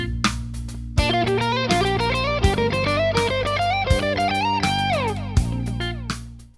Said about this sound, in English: Here's another pentatonic idea. It's just one that works up on 2 strings, and that would sound like this with the backing track.